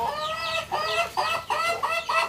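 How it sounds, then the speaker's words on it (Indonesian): Chickens at feeding time on a small home farm cluck loudly and close in a run of about six sharp, repeated calls, with no one speaking over them. "Tuh, ayamnya super galak ini, pengen menunjukkan dia kegagahannya ya."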